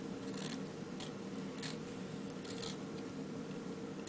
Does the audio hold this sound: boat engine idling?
no